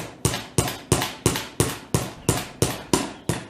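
A hammer knocks a nail through a bottle lid with ten sharp, evenly spaced strikes, loud and close, about three per second, with no talk.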